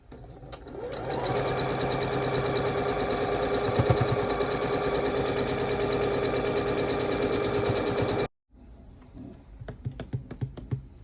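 A sewing machine stitches quilt pieces together, running in one steady, fast, close whir for about eight seconds before stopping abruptly, then a few quieter clicks and short bursts follow.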